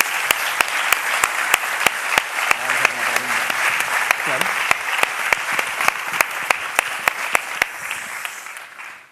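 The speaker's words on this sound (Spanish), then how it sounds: "y un aplauso muy fuerte" Loud, steady applause from an event audience fills the room, with a few sharp, evenly spaced clicks cutting through and a brief spoken word partway, fading out at the end.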